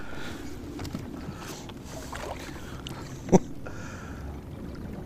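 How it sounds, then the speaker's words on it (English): Rumbling hum of a small boat on the water with wind noise and light splashing, plus a single knock partway through. "Let me turn this boat around."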